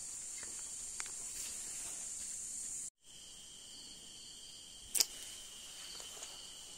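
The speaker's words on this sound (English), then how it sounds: "hopefully I get a good sleep with the sound of all the crickets around" Steady high-pitched cricket chirping fills the night air in the Taralamas River Canyon, Ranau, Sabah, continuous and fairly faint, with a brief dropout and a soft click partway through.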